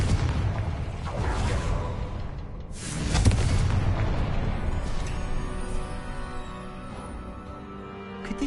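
Confringo fire spell blasts in the Hogwarts video game, two heavy booming whooshes a few seconds apart, loud and rumbling, fading into a lingering low roar of game ambience.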